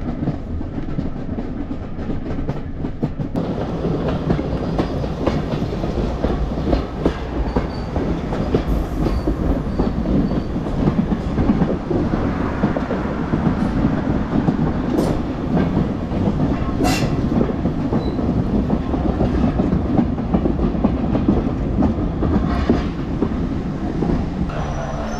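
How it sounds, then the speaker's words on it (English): A vintage LBSC railway carriage on the Isle of Wight Steam Railway rolls steadily along the track with a constant rumble and rhythmic clickety-clack of wheels, heard from inside a first class compartment, with occasional faint squeals. "I'm riding in a first class compartment in a similar LBSC railway carriage."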